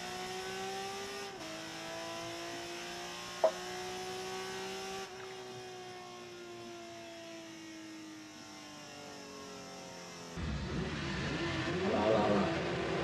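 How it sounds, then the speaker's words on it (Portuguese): A race car revs hard with rising and falling engine tones and a sharp pop, then breaks into rough, noisy tire-spinning roar as it does burnouts at a racing event. "Olha os burnout, olha os burnout."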